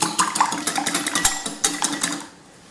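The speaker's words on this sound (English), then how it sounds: "So I'm just going to whisk the eggs" Eggs being whisked in a bowl for Thai crispy fried chicken batter, a quick run of rhythmic clinking, tapping strokes close by that stops abruptly near the end, with no talking.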